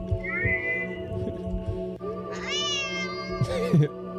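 A cat meows in the horror video game DoNOTTakeThisCatHome, which features a possessed cat. Two clear meows rise over a low droning ambient background, the second shorter and sharper near the end.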